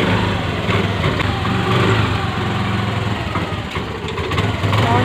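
A Honda Activa 125 scooter engine runs steadily at idle close by, a continuous buzzing hum with no talk over it.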